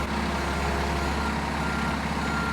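A tandem dump truck backs up at a demolition site, its reversing alarm beeping in a steady repeating rhythm over a constant low engine rumble, loud and close, with no talk.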